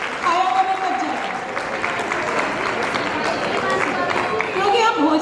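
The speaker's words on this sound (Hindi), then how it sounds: "तालियां बजाते रहो" An audience at a Manassiddhi program claps together, producing a continuous, fairly loud wash of applause with voices and some tonal sound mixed in throughout.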